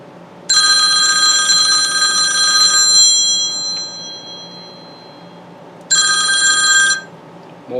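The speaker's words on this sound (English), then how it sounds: "my phone is ringing off the wall today" A phone rings through the original AM radio of a 1957 Ford F100, two electronic ringing bursts, the first about three seconds long and fading, the second shorter, clear and close.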